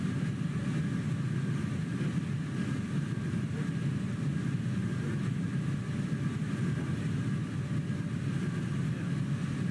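Boeing 787 engines in a flight simulator, a steady low roar that rises slightly as the throttle is pushed up, continuous and even throughout with no talk.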